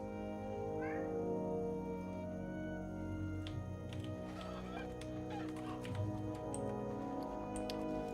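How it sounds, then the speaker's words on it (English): Poncho the cat meows at a window, a few short faint cries early on over a steady hum with scattered light ticks, no voices. "Poncho's meowing out the window"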